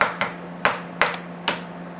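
Eggs are cracked against a bowl rim while making cornbread batter: four or five sharp, close taps at uneven intervals in a quiet kitchen.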